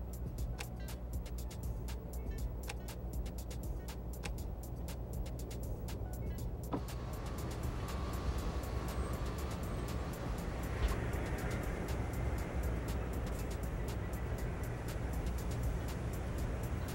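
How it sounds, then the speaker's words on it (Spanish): A Vissta DD 8x2 15M double-decker bus in American Truck Simulator, with a steady engine drone and engine braking, and a shift in tone partway through as gears change. Repeated faint clicks run over the engine noise, and no one speaks. "Hace un ruido raro al pasar los cambios."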